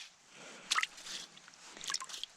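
Soft splashing and sloshing of water with a couple of wet squishy bursts as freshly caught fish are rinsed, quiet and close, with no talking.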